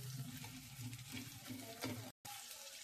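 Onions frying in a pan until reddish brown, a soft continuous sizzle with faint stirring, heard alone and quietly up close, briefly cut off near the end.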